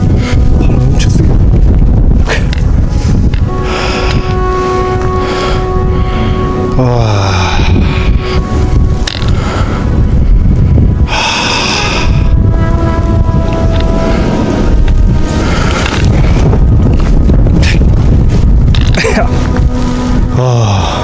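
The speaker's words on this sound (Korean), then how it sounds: "바람 엄청 세게." Strong wind roars without a break across a mountain summit at night, loud buffeting gusts battering the microphone throughout while people talk over it.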